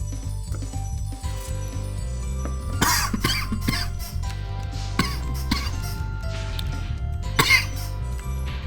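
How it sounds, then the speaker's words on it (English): Harsh, repeated coughing fit with throat clearing, several bursts spread across the stretch over a steady low hum, up close and fairly loud. "Coughing fit, yay."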